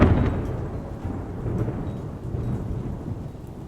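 Steady rain with a low rumble of thunder in the video game Love and Deepspace, a broad continuous wash that swells at the start and holds at a moderate, even level without voices.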